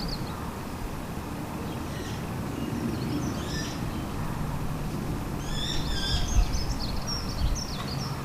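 Baby magpies call from close by in a garden with a berry bush, their scratchy, squeaky calls rising in short clusters over steady outdoor background noise.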